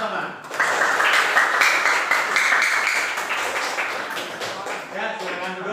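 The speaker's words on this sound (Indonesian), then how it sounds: "tepuk tangan bersama." Students in a classroom clap together in a dense, lively burst of applause that swells and then tapers, with voices talking over it.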